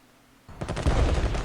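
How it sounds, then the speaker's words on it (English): Defensive artillery fire in the World War I strategy game Strategic Command opens after a quiet half second, a loud, dense burst of booming shots rolling on without pause. "Okay, defensive artillery."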